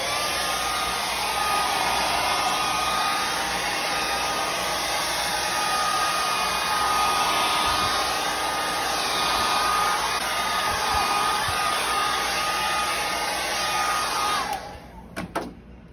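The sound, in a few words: hair dryer drying sprayed finish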